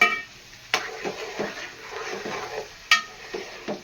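A spoon stirs ginger garlic paste frying in a pan, with a steady sizzle and repeated scraping strokes against the metal, plus two sharper clanks of the spoon on the rim.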